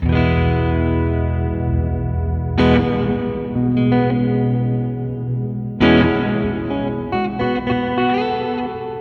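Electric guitar chords strummed a few times, each ringing out with a bright, lingering plate reverb tail; no talking.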